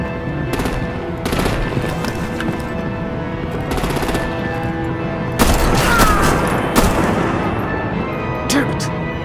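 Artillery and gunfire in Batman: The Enemy Within: bursts of rapid gunfire over a steady rumble, with sharp louder blasts midway, close and intense, with no talk.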